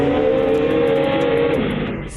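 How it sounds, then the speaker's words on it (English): A truck engine revs hard and steadily as its tires spin without traction, a loud continuous roar with a sustained whine that holds and then eases slightly toward the end. "Spinning tires plus no traction equals one overheated engine."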